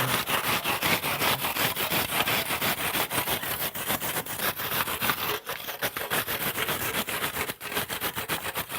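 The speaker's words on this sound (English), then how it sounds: "we're going to use our cob saw, which is our old hand saw with the big teeth cut out of it" An old hand saw with big teeth cut out rasps steadily along a cob wall to trim it flat, in fast, rhythmic back-and-forth strokes that are close and continuous with brief pauses. No voices.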